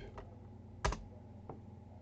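Typing on a computer keyboard: a few sparse, quiet keystrokes, with one sharper clack in the middle and lighter taps around it, in a hushed room.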